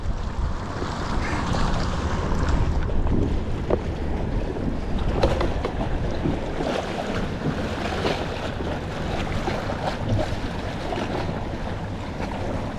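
Kayak hull rocking and scraping against sharp rocks in rough water, a steady broadband wash of waves and wind noise with faint grinding textures throughout, no talking.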